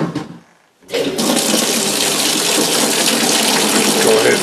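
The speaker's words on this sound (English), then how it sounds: "Go ahead and put some water in there." Water pours steadily into a DIY off-grid camping clothes washer already holding liquid laundry detergent and bleach: a loud, continuous gushing rush that starts after a brief quiet moment and runs without a break.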